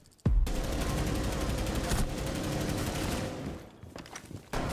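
Sustained automatic gunfire in Rainbow Six Siege, loud continuous shooting for several seconds that tapers off, with a short burst returning at the end.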